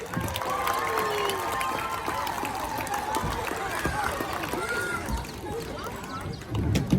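An aquarium crowd at the New York Aquarium in Coney Island applauds Clark the sea lion after his show segment, a steady wash of clapping lasting several seconds under a loud voice.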